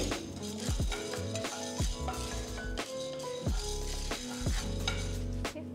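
Chana dal and urad dal being roasted in a kadai over a medium flame for curry-leaf idli podi, with a steady dry sizzle and repeated scraping stirs of the spatula against the pan, close and alone.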